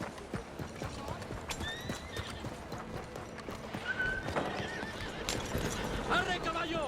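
Horse hooves clip-clop at a steady pace with a loud whinny in Red Dead Redemption 2, while someone talks to the horse and game ambience fills the background.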